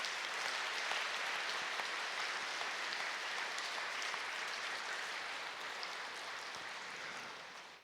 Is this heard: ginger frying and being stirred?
no